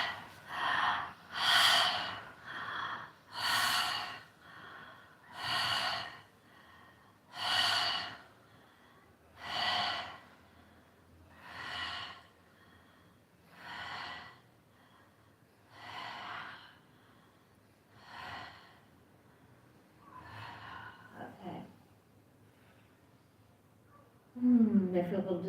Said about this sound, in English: We're going to start breathing.